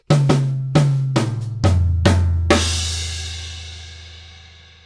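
Bar 6 of a Trinity College London Grade 4 drum kit piece played on an acoustic kit: six sharp snare and floor tom hits in a steady count, then a final crash and snare accent ringing out, close and loud with no talk.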